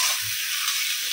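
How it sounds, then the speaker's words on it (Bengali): Onions frying in a pan, a brief steady hiss of sizzling oil with a faint tap near the end, no voices. "আর এইদিকে হচ্ছে পেঁয়াজ বসিয়েছি, মশলা কষাবো"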